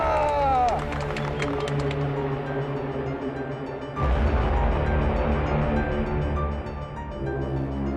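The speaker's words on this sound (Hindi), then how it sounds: "तालियां" Applause and cheering from a crowd at a district wrestling bout after the girl wins, a dense wash of claps and voices that swells louder halfway through, with shouting and talk mixed in.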